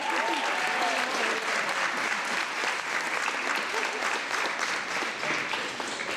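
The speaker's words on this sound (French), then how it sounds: "Vous pouvez vous applaudir" Sustained audience applause at the Miss Belle en Forme pageant, a thick, steady wash of many people clapping with faint crowd voices underneath.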